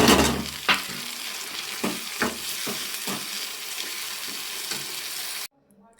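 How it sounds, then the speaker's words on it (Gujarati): Tomatoes tipped into a sizzling peanut curry in a hot pan, giving a loud, close hiss with repeated clanks of a spoon stirring, before it cuts off abruptly near the end. "પાકી ગઈ છે તો ટમેટા નાખી દઈશ"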